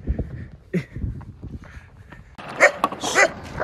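Several dogs bark and yip on a hiking trail at Red Rock in Colorado, a cluster of sharp, fairly close barks after a stretch of quieter movement and faint voices.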